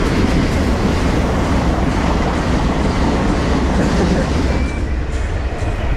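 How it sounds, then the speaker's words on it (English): A train rumbles past close by near a river, a loud continuous roar of wheels and clattering carriages that stays steady throughout. "There comes the train."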